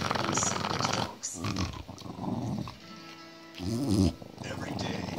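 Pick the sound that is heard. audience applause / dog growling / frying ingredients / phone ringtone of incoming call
dog growling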